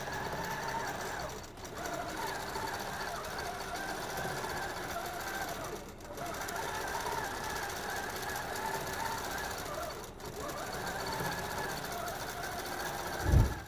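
QCT6 Pro quilting machine stitching a pattern, a steady rapid mechanical whirring with fast needle chatter, running evenly for long stretches with brief pauses, moderately quiet and close.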